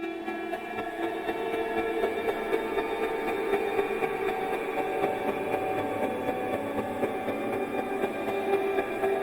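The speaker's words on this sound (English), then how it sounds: "You put delay on everything, all the delays, all the time, and you get trains." Dense, continuous wash of layered echoing tones and noise rumbling steadily like a passing train, no talking.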